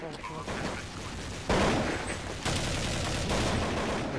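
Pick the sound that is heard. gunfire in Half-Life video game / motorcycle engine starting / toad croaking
gunfire in Half-Life video game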